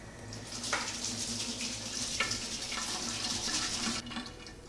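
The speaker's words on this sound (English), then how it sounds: "it's waterproof, so you can just rinse it under the water and it's good as new" A dirty Olight X7R Marauder flashlight is rinsed under a running tap, a steady hissing stream of water with a few splashy changes as it is moved, quiet and close with no speech.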